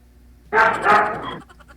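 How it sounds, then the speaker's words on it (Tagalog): A single drawn-out bark or yelp from a dog, close and loud, lasting about a second, with quiet surroundings before and after. "maingay po kasi yung aso"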